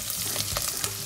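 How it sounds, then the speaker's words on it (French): Chopped onion for spaghetti carbonara frying in a pan, a brief dense sizzle with a few stirring scrapes, close and steady. "je vais ajouter l'oignon que j'avais coupé."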